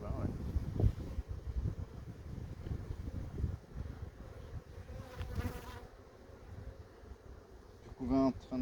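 A steady buzz of honeybees swirls around an opened hive during a late-season inspection, close to the microphone, with wind rumble and people speaking now and then over the humming.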